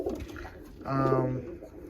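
A racing pigeon in a loft gives a single drawn-out low coo, close and clear, over soft rustling and a faint background voice.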